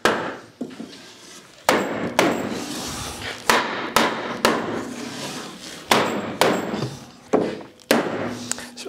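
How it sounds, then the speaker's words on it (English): A hammer drives wooden garden arbor joints into notches, landing about a dozen sharp, loud blows in irregular bursts with brief pauses between groups, each strike ringing out with a woody knock. "Hammer it home."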